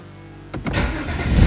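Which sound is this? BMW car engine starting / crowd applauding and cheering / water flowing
BMW car engine starting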